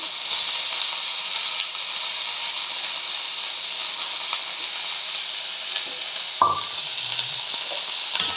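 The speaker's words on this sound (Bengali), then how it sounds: "পেঁয়াজগুলো আমি ভেজে দেবো।" Long-sliced onions fry in a pan with a steady soft sizzle and hiss, broken by a brief clank of a utensil near the end, with no voices.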